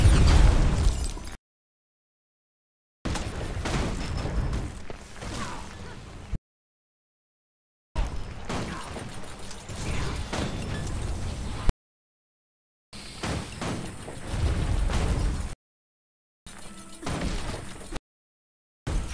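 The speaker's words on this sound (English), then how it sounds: "I can explode my turrets once I've placed them" Placed turrets exploding in Guild Wars 2: about five separate booming blasts, each with a rough crackling tail, set apart by dead silence.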